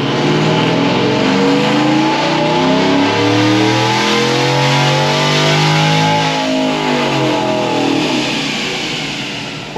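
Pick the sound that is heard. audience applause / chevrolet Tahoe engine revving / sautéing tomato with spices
chevrolet Tahoe engine revving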